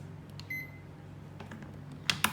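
A bread maker beeps as the dough program is selected for sweet potato bread, with a few short electronic beeps and button clicks over a faint hum, near and fairly quiet, without speech.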